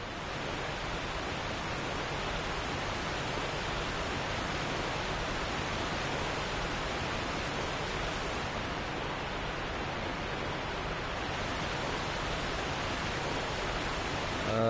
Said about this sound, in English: It's just the waterfall.